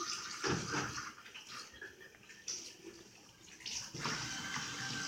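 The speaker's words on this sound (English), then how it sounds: "So I'm going to wash my hands, walk over, I'll wash my hands." Water runs from a tap as hands are washed at a sink during a clinical skills demonstration, a steady close splashing hiss with brief louder bursts and no talking.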